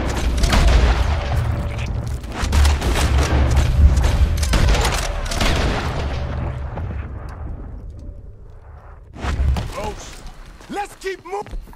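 Cannon fire and gunfire booms from a Red Dead Redemption 2 battle sequence, dense bursts of loud blasts and impacts over the first nine seconds, then scattered shots as a voice shouts over the action.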